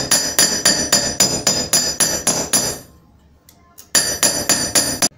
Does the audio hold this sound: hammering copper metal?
yes